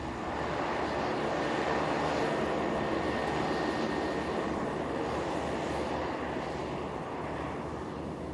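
Airplane taking off eastbound from an airport, heard from the south side of the field: a steady, loud broadband engine roar that holds throughout without letting up.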